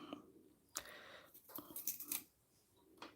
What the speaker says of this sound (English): I just chop off the dried ends.